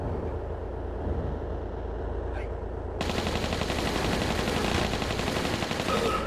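Gunfire in Tomb Raider 3's Antarctica level as a guard is shot. A dense, loud stream of rapid shots keeps up without a break and grows heavier and harsher partway through, with no talk.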